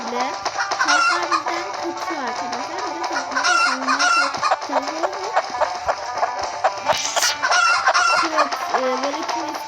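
Video game chickens cluck continuously with rooster-like calls and crowing over a busy, steady background, sounding close and fairly loud.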